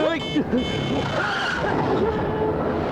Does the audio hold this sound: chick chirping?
no